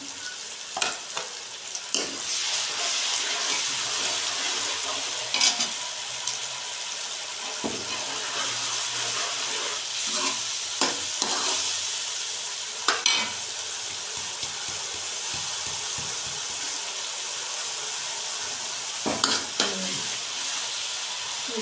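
Tomato, onion and garlic sizzle steadily in a pan for palak paneer, with a continuous frying hiss broken by repeated scraping stir strokes, close and moderately loud, with no talking.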